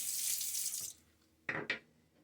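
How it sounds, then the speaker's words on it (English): A Timeless 68 open-comb safety razor rinsed under a running tap: a gush of water for about a second, then two short splashing bursts as the razor is swished, close and quiet. "Rinse."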